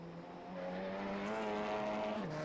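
TCR race car engines in a sim racing game at the Nürburgring GP whine at a steady high pitch, rising then dropping as gears shift, loud and continuous with a faint roar of other cars.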